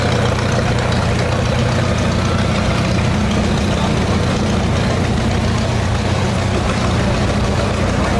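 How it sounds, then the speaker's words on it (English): A 1954 Farmall Super N tractor, 45 horsepower, runs at a steam power show, its engine a loud, steady low chugging drone close by, continuous throughout with no talk over it. "Here we have a Farmall Super N, built 1954, full 45 horsepower"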